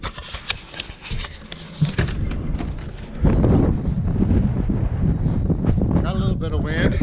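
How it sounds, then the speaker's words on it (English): Outdoor wind buffets the microphone with a low, steady rumble that strengthens after a few seconds and keeps gusting, while a voice is heard faintly at times. "Got a little bit of wind."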